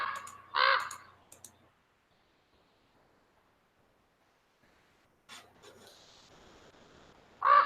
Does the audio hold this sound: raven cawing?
yes